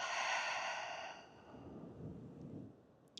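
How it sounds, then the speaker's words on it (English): A long, breathy exhale out through the mouth during a guided yoga flow, a soft airy rush that fades over about three seconds with faint low rumble underneath. "exhale out the mouth"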